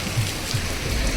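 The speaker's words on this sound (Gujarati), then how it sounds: "વરસાદ ચાલુ છે." Steady rain falls during a Ganesh immersion outing, a soft continuous patter close by with a low rumble underneath.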